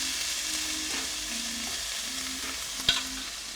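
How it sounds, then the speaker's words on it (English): Food sautéing in a pan gives a steady, close hiss of frying with faint stirring scrapes and a single sharp clink near the end, with no voices. "While that's sauteing"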